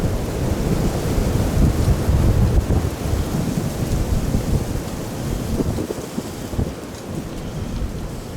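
Strong, cold gusts of wind roar across an open outdoor spot, blustery and buffeting the microphone for the whole stretch, with the rush swelling and easing but never dropping away.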